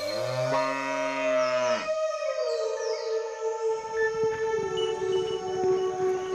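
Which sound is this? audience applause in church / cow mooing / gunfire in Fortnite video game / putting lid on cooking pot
cow mooing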